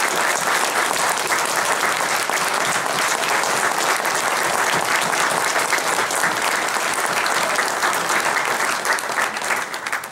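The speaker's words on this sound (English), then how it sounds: "So one more round of applause for these folks." Large conference crowd applauding at the Ohio Linux Fest 2015 closing, a dense, loud, continuous roar of clapping holding steady for about ten seconds with no talk on top.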